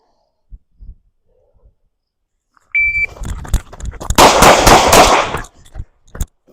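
Gunshots in a shooting training drill: after a short electronic start beep comes a quick cluster of loud, sharp reports close together, then a few scattered quieter knocks and clicks.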